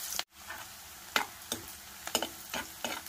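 Onions frying in a pan for a cowpea pod curry, with a steady low sizzle and a series of sharp, evenly spaced clicks and taps, like a spatula stirring against the pan.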